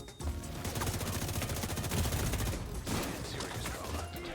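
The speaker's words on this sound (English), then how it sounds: "Oh, they're back on the minigun in there." A minigun fires in a video game, a loud continuous rapid burst of gunfire that runs most of the time, briefly breaks, then resumes with scattered shots.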